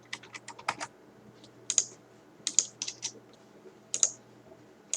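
Keys clatter on a computer keyboard while PHP code is written, arriving in short irregular bursts of close, crisp clicks with brief pauses between them and no speech.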